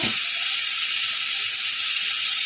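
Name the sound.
slit green chillies added to the pan, sizzling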